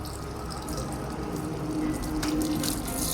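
Tap water gushing into a bottle, a loud steady rush of running liquid with a rising filling tone over about three seconds, with no talking.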